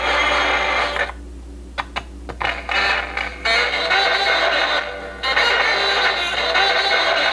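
A 1951 Zenith Cobramatic record player skips, sound from its speaker cutting in and out with irregular clicks and creaky mechanical knocks between louder stretches of playback, over a steady low hum.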